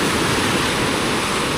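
Waves washing over a rocky, oyster-covered shore on a choppy sea, a steady close wash of surf with no voices.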